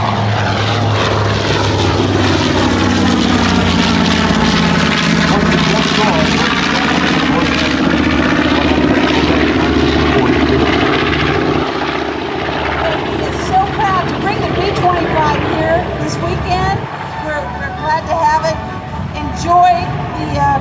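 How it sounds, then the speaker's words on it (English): A B-25 bomber, a propeller-driven plane, roars past at an air show, its engine drone swelling and then sliding down in pitch as it moves away, with voices talking over it. "Beautiful airplane as it makes several passes today."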